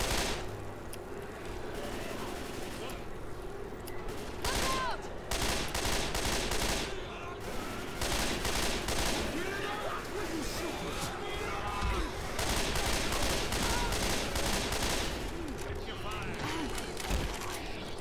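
A mounted gun in Left 4 Dead 2 fires in long, dense bursts until it overheats, loud and rapid over heavy game noise, with voices talking now and then.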